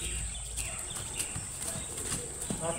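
Horse hooves clip-clop in an uneven rhythm as a horse is coaxed to move while a child sits on it, with people talking over the steps and a steady high hiss behind.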